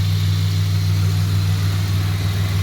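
Ford AU Falcon engine fitted with extractors and a high-flow catalytic converter, idling cold with a steady deep low rumble, loud and close, with no other sounds.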